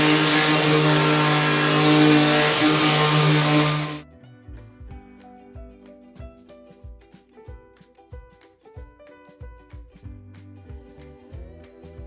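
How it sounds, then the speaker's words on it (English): A Ryobi palm sander fitted with 120 grit sandpaper works scrap wood with a loud, steady buzzing whir for about four seconds, then cuts off abruptly as light music continues. "I prefer to use my Ryobi palm sander. And then I have just a 120 grit on there."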